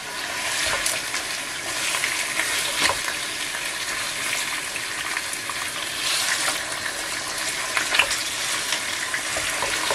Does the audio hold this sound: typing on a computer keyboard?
no